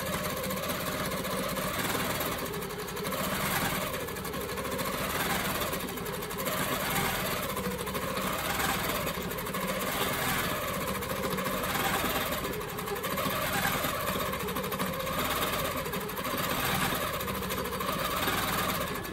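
A sewing machine stitches free-motion quilting in a ribbon candy pattern, running in rapid mechanical bursts with brief rhythmic pauses and slight speed changes, close and steady with no talking.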